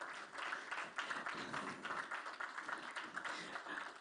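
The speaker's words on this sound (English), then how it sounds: "Please, let's keep clapping as he climbs on stage." A summit audience claps faintly and steadily for a keynote speaker climbing onto the stage at a blockchain and Web3 event, a soft distant patter with no voices.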